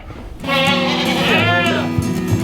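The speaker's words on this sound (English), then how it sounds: "You put 6 or 7 little baby goats in such a tight enclosed space" Baby goats crowded in a tight, humid enclosure during extreme cold on a homestead let out a loud, close, drawn-out bleat, with smaller bleats and rustling around it.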